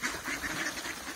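Ducks quack in a short, rapid series of nasal calls at close range while being fed bread on the water of a winter pond by hydrogen-sulfide springs.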